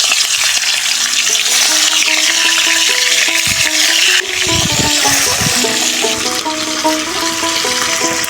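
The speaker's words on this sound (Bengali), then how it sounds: "এখন হচ্ছে এই তেলের মধ্যে তেলাপিয়া মাছগুলো আগে ভেজে নেব।" Tilapia fish frying in hot oil in a pan, a loud steady sizzle and crackle running continuously with stirring and clattering noises over it, close up with no talking.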